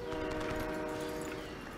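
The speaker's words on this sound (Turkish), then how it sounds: "The train's moving." A train rumbles steadily through a Crysis Warhead game scene, its loud, continuous mechanical drone carrying sustained tonal layers and no speech over it.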